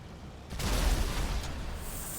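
A car blows up in a GTA firefighting roleplay game: after brief quiet, a sudden loud boom erupts and rolls into a sustained low rumble and crackle that keeps going to the end, with no speech.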